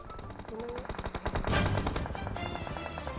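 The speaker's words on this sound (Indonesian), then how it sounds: "Woi nggak kena dia nembak." Rapid automatic gunfire in the PUBG Mobile video game, a fast steady burst of shots lasting several seconds, loud and close, with no clear talk over it.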